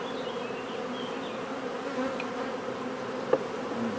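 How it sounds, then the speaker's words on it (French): Honeybees buzz steadily over an open beehive frame during a hive inspection, a close, continuous drone with no talking and one brief soft click near the end. "Pour caresser gentiment les abeilles."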